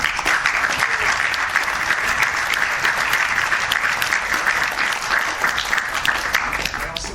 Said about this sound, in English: If we could give them like a round of applause.